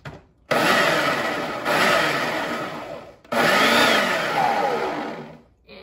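Food processor pulsing cookie crumbs and butter for a cheesecake crust: three loud whirring bursts separated by short pauses, the motor pitch sagging slightly during each pulse, close and alone.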